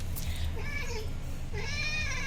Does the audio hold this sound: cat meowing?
yes